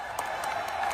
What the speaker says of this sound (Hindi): और जाते जाते जोरदार तालियां हो जाए हमारे सिख भाइयों के लिए